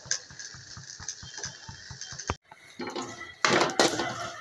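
Tamarind and spices fry in a pan under rhythmic scraping stirs, followed by a louder burst of close, crackling sizzle.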